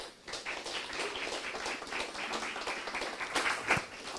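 A church congregation at a Bible school class applauds to welcome a teacher, moderately loud clapping that swells and fades with a few sharper claps.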